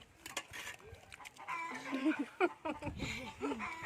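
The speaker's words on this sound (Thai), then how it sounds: "มีเสียงไก่" Chickens cluck and squawk in bursts, fairly close, with some rustling and background noise between calls.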